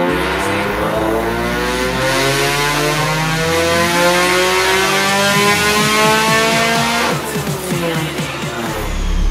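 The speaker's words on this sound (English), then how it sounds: "Okay, so we just did another pull." A naturally aspirated, track-built Mazda Miata engine revs hard on a dyno pull, a loud, steady, rising rev held for several seconds close to the mic, then easing off near the end.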